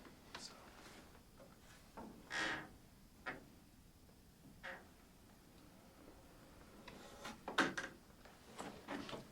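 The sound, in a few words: creaky door in abandoned backwoods cabin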